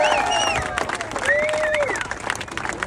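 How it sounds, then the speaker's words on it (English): Audience applauding and cheering for a boat crew member at a waterfront arrival of a long-distance swim in Wellington, steady crowd noise with whoops over it, while a voice speaks over the clapping throughout. "Give him a round of applause."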